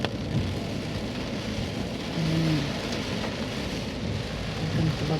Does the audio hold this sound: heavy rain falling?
yes